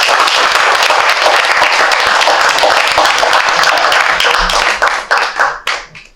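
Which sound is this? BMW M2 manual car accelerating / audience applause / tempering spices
audience applause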